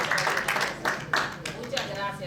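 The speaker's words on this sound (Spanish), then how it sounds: "Denle un aplauso a Máximo." Scattered clapping from a church congregation rises in a few bursts, moderately loud and irregular, with a voice talking over it.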